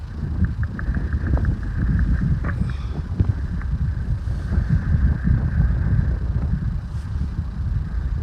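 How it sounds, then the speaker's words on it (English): Steady wind buffets the microphone with a continuous low rumble and gusty roar, no voices heard; a cold, sunny day in Gorky Park, Moscow. "Windy."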